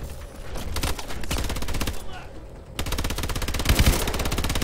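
Main gun firing in Call of Duty Advanced Warfare: loud rapid automatic bursts of evenly spaced shots, pausing briefly midway before resuming and continuing steadily to the end.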